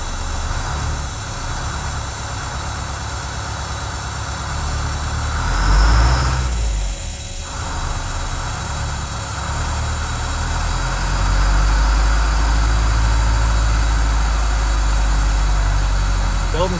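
An old RV engine, sitting unused for a long time and leaking at its power-steering hydraulic pump, idles steadily, then revs up once under throttle around the middle before settling back to a loud, rumbling idle, with a person talking over it.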